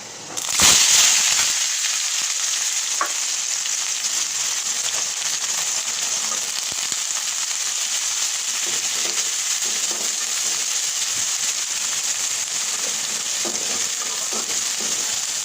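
Chopped onion, garlic and two green chilies hit hot oil in a pan with kalonji, fennel, fenugreek and dried chilies, giving a loud steady sizzle that stays continuous and close throughout, with a few faint stirring clicks.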